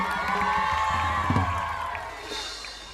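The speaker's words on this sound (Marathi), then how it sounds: "जोरदार टाळ्या वाजूया त्यांच्यासाठी" A crowd cheers and whoops with scattered clapping at a Garba festival in Thane, strongest at first and gradually fading, with a faint voice underneath.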